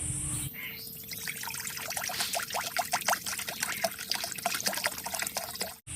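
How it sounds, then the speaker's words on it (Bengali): Water pours steadily into a wok on a stove while steamed rice cakes (bhapa pitha) are being prepared, a continuous splashing trickle lasting several seconds before stopping abruptly. "কড়াইটা উনুনে দিয়ে এবার আমি জল দিয়ে দেবো"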